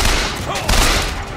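Gunfire from the first-person shooter BioShock Infinite: a loud, close, dense burst of rapid shots and cracks crowds a brief moment.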